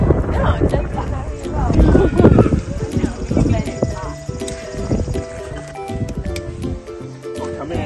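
A horse moves close by over ground with wind buffeting the microphone, its hooves giving soft irregular thuds while people talk and hum nearby.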